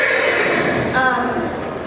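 A horse whinnies partway through, a brief rising neigh standing out over steady background noise and nearby voices, with possible hoof sounds.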